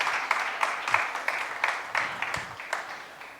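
Church congregation clapping during a Spanish-language sermon, a moderate round of applause with irregular bursts of hand claps lasting a few seconds, fairly distant and reverberant.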